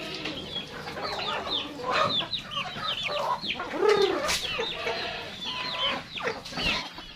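Crossbreed and purebred Rhode Island Red chickens cluck and call in a rural farmyard, with many overlapping close clucks and short squawks in an uneven, busy rhythm.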